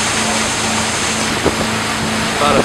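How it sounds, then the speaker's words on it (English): Motorboat cruising toward Little St. Simons Island off coastal Georgia, a steady engine hum under loud wind rush and water noise, with no talk. "About a 15-minute boat ride."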